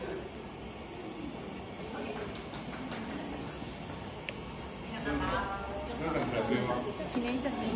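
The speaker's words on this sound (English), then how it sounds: "Take a picture with the steam because it's just so cool." Steam at a sake brewery gives a steady, broad hiss that swells louder midway, heard close up with people talking over it.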